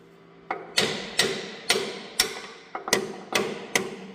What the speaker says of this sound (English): Now we just got to get this tapped in there far enough that that bolt will come down